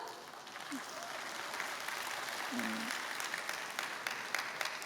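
A church congregation applauds during a Sunday afternoon worship service, a steady, moderately distant wash of many hands clapping that holds evenly throughout, with a faint voice or two surfacing briefly beneath it.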